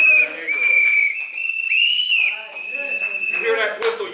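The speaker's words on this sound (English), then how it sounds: "You hear that whistle, you know it's time to act" A shrill whistle, carried to warn of police raids in a neighborhood, blows in long sustained blasts with a few breaks, while someone speaks over it.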